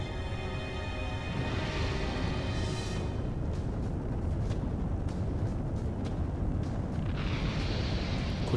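A base explodes in a Gundam video game with a sustained, loud, rumbling roar, dense and continuous. Crackling bursts flare near the start and again toward the end.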